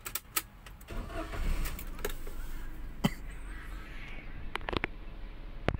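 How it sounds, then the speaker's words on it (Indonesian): A car engine is started after clutch free-play adjustment, with cranking and the engine catching into a low idle amid scattered clicks and knocks close by. "Kita nyalakan mesin dulu."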